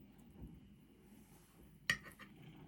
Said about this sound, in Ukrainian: Перекладаю на тарілку, який буду подавати до столу.